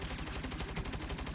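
Rapid automatic gunfire in Saints Row, a dense, loud, evenly pulsing stream of shots close by with no pauses and no talk.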